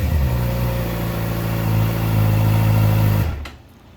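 2019 Suzuki GSXR600 sportbike with a Yoshimura exhaust revving close up, a loud raspy engine note holding steady and climbing slightly before cutting off sharply near the end.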